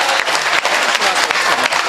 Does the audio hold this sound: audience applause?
yes